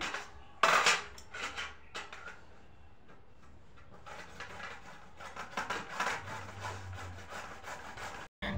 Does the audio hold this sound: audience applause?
no